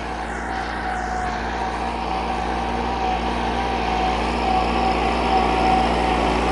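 An old 1996 Massey Ferguson MF-375 tractor engine runs while deep-ploughing a rice field in Punjab, a steady, continuous mechanical drone at close range that grows slightly louder toward the end.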